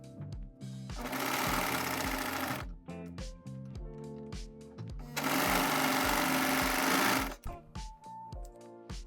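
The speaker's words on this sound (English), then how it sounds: "we're going to sew the inseam." A sewing machine stitches the inseam of a romper upcycled from a shirt, running in two long loud bursts separated by pauses, with short mechanical clicks and starts between and after the runs.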